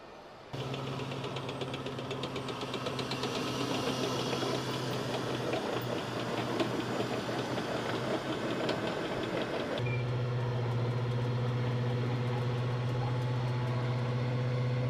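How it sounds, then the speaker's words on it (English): Heavy military armored vehicles, M1A2 Abrams tanks and M2A3 Bradley fighting vehicles, being offloaded from railcars: a steady, loud, rumbling diesel engine drone with a low hum that holds throughout and shifts in tone partway through. "Offloaded from railcars were the M1A2 Abrams tank, M2A3 Bradley infantry fighting vehicle, and M109A7 Paladin self-propelled howitzer."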